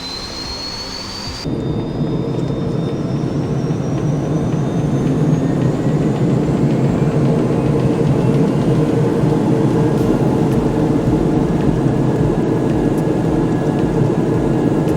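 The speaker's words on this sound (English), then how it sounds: "There's just nothing quite like the sound of a turboprop winding up." A TBM 930 turboprop engine spooling up in a flight simulator. A loud, steady turbine roar starts suddenly, with rising whining tones layered over a broad, constant drone.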